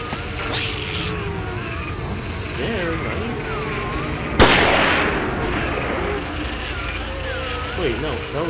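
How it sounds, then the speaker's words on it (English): A single sharp gunshot cracks out midway in the horror video game Siren, loud and brief with a short decaying tail, set against a low droning game ambience and voices talking throughout. "Wait, no, that was a gunshot."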